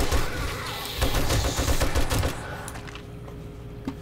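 Sustained automatic M60 machine gun fire in the 7 Days to Die video game, a dense rapid burst of loud, close shots that thins out in the final second.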